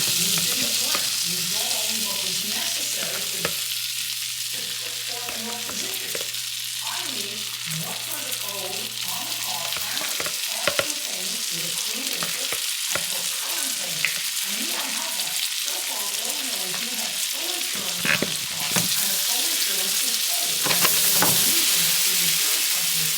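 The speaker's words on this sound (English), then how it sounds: "we're just gonna cook that until that browns up." Food sizzles steadily in butter in a pan, a loud close frying crackle that runs throughout with occasional clicks and a brief hum early on, with no talk.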